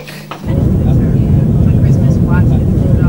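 A steady, loud low-frequency roar of an airplane cabin kicks in after a brief moment and continues evenly throughout.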